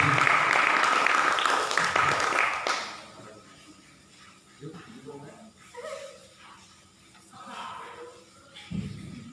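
Audience applause at a women's Islamic speech contest in Indonesia, loud and dense for the first three seconds, then breaking off as a voice and scattered crowd noise take over.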